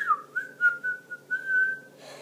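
A single person whistling in an unusual way, one sustained wavering tone that slides down at first and then holds, close and clear with no talk.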